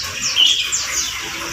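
Birds for sale at a pet bird kiosk in Cibinong, chirping in short high tweets and calls over a steady background hum, no talking heard.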